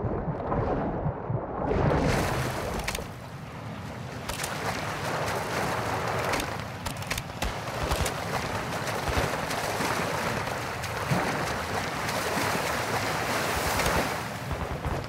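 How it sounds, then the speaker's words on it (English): Armored boat in the Modern Warfare video game, its engine running over water, heard as a loud, steady wash of rushing water and wind with choppy surges throughout. "The armored boat is dropping in now."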